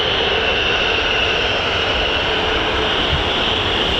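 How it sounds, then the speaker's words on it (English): F-35A fighter jets flying at RAF Lakenheath, a loud, steady broadband jet roar with a sustained high whine, filling the air without letup and with no voices. "F-35A, and here they are actually, just over the other side."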